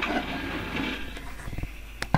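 Minecart rolling along rails in the Minecraft game, a rumbling clatter of track noise for the first second or so, then sparse clicks and sharp knocks as it slows.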